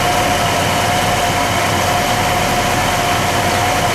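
Steady, loud idle of a 1958 Chevrolet Impala's original 348 V8, an even rumbling drone with a faint whine on top, with no voices.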